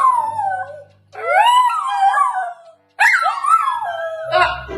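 A Bengal cat yowls on command in three drawn-out, wavering, melodic calls separated by brief pauses, close and loud.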